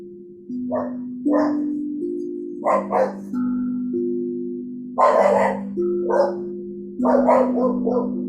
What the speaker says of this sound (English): listen to the sound of the barking dogs